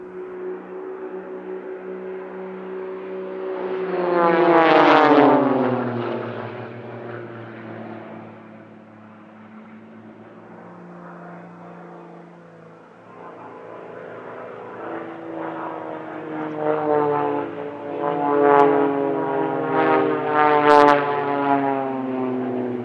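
Blades aerobatic team aircraft diving toward show centre in a crossfire break at the East Kirkby airshow, their propeller engines swelling into a loud close pass, fading, then building again into a second roaring, pitch-shifting pass.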